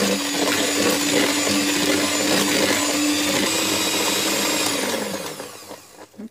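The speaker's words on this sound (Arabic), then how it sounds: "نضربهم غير شويه بالمنتام زوينه" An electric mixer beats cocoa cake batter with a steady, close, loud motor whine that runs evenly for about five seconds, then winds down and stops.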